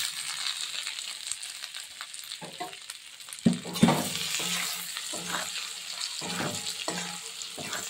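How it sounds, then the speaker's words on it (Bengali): Cauliflower stir-fried in a pan with spice masala and ground cumin for pickle, a steady sizzle with scraping stir strokes and a few louder clatters partway through, close and alone with no talk. "এবার মশলাটা একটু ভালো করে কষিয়ে নিই।"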